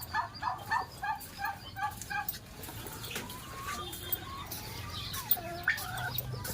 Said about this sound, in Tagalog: Ito yung mag-asawang pabo dito sa farm ko.